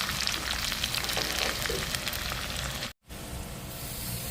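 Cashews and raisins fry in a hot pan for semiya payasam, giving a dense, steady crackling sizzle that cuts out briefly near the end before resuming.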